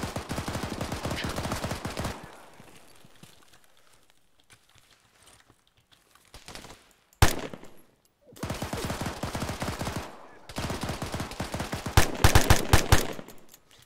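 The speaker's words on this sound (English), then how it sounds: "so just watch me fire" Automatic gunfire in the military shooter ArmA, long rapid bursts close and loud, broken by a near-silent gap and a single sharp crack, then more sustained volleys with heavier shots near the end.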